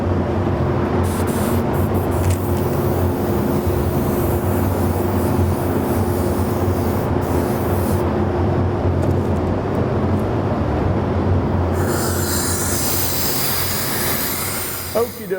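A paint spray booth fan runs with a loud, continuous roar and low hum, steady throughout, joined near the end by a brighter hiss of spraying candy yellow paint.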